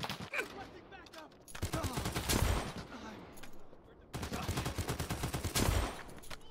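Rapid bursts of gunfire from a gun in the shooter game Lost Light, loud sustained volleys in two long stretches with a quieter gap between them.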